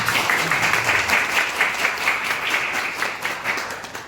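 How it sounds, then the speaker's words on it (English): An audience at a team sharing event gives a housewife a round of applause, with dense, steady clapping from a crowd that slowly fades over a few seconds. "give her a round of applause"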